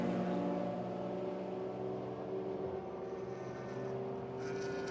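Endurance race cars at Virginia International Raceway drive past in traffic, a steady engine drone that fades slightly and then swells again near the end, heard at a moderate distance.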